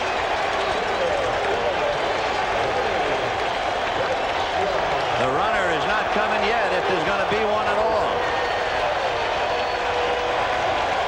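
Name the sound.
baseball stadium crowd cheering, 1986 World Series Game 6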